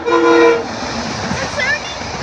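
A passing train at a Philadelphia-area commuter line sounds a loud horn with steady harmonic tones for about half a second, then fades into rumbling rail noise and a faint later squeal; speech murmurs underneath.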